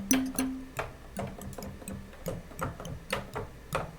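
Mallet instrument notes played in Ableton Live: a quiet run of short, woody tapping strikes in an uneven rhythm, some holding brief low tones, with no talking.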